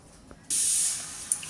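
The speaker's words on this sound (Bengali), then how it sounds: "এটা বসিয়ে দিলাম এবার আমি গ্যাসের ফ্লেমটাকে একটু বাড়িয়ে দিলাম" A gas stove flame is turned up with a sudden steady hiss of rushing gas that starts abruptly and continues close and loud, with a small click near the end.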